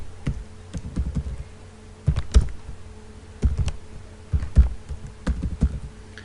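Quick bursts of clicking keys as HTML and CSS code is typed on a computer keyboard, close and fairly quiet, with short pauses between runs of keystrokes and no talking.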